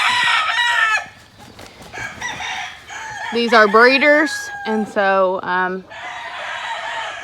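Roosters tethered on tie cords on a farm crow loudly nearby, with several drawn-out calls and clucking, while a person talks before and between them.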